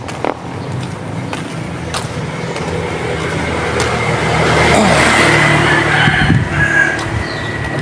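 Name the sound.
loud motorcycle engine and exhaust pipe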